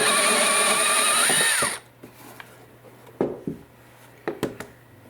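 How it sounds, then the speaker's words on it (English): A power drill bores into a boombox enclosure, whining loudly for under two seconds, pitch dropping as it spins down, followed by quiet scattered knocks and clicks. "so you will need to drill from the inside as well"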